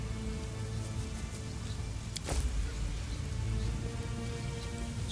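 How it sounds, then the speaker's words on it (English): Steady rain in the fantasy role-playing game Pathfinder: Wrath of the Righteous, a soft continuous patter with a brief crackle of thunder partway through, fairly quiet with no voices. "I think rain makes us miss"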